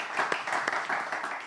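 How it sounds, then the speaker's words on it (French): Brief burst of audience clapping at a semi-final stage event, a dense mid-level patter of many hands lasting just over a second, with a sharper spike right at the end. "On applaudit."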